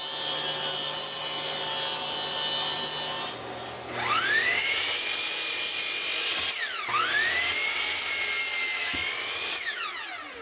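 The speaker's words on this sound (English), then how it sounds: "Now I can grab a piece of 3/4-inch plywood to cut the guide rails" A saw cuts through 3/4-inch plywood for guide rails, a loud close power-saw whine that rises as the blade bites in, dips and recovers through the cut, running steadily without speech.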